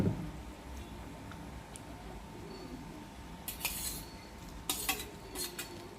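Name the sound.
mixing gravy with a spoon in pan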